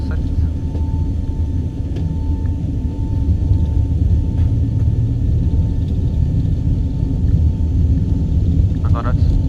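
Airbus A320neo engines spooling at takeoff thrust on the runway, a steady, loud low rumble and roar filling the flight deck throughout, with faint tonal whine above.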